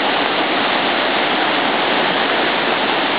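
Rain-swollen Rocky Creek in Columbia, South Carolina rushes past after heavy rain, a dense, loud, continuous roar of churning floodwater with no pauses or voices.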